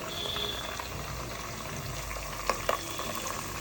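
Onion paste fries lightly in a pan for fish gravy, a soft, steady bubbling sizzle with a few brief clinks of stirring near the end, fairly quiet and without speech.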